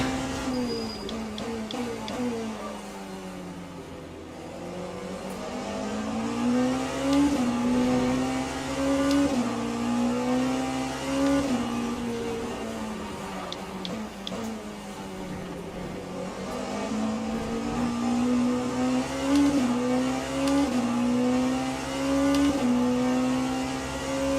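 Race car engines in Le Mans Ultimate on Bahrain's Outer circuit, a Porsche and a Mustang among them, rev and shift through gears with rising and falling whines, loud and continuous, with brief tyre squeal.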